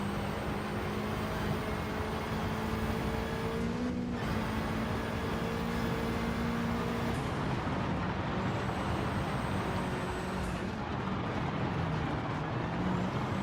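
Engine drone of a racing car in a sim racing video game, a steady loud whine with shifting pitch and a few brief dips as the car slides and lands, no talk.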